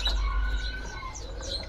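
Oriental magpie-robins chirp inside a bird shop, with short, bright tweets and calls over a steady low hum, moderately close and without voices.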